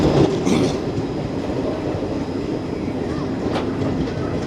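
Jan Shatabdi Express passenger train crossing the Periyar river bridge in Kerala, heard from on board as a steady, loud broadband rumble of wheels and carriages with faint rattling throughout.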